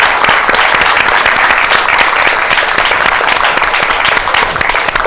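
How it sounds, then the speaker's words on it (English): Dense, loud studio audience applause at a women's awards program fills the room evenly with many overlapping claps, steady throughout without pause. "I'd like to do one more round of applause for our PACE Center for Girls and the essay winners."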